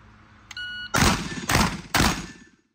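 Three shotgun shots are fired slowly one after another, each a loud, close blast with a short decaying tail, following a brief electronic beep tone, with no talking.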